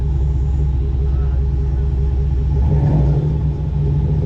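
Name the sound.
car exhaust revving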